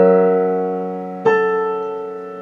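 A single measure from Rachmaninov's Piano Concerto No. 2 Adagio Sostenuto on piano: a ringing chord decays, then a second chord strikes midway and sustains, played solo and close.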